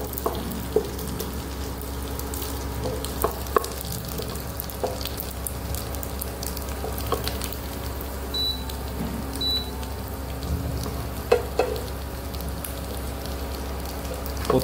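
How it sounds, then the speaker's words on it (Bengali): Papad and finger chips frying in hot oil, a steady crackling sizzle throughout with occasional louder pops and faint clinks, no talking. "একটু পাঁপড় ভেজে নিচ্ছি প্রথমে, ফিঙ্গার চিপস"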